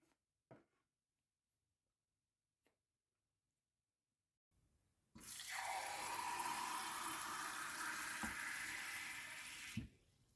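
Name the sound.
water poured into a pot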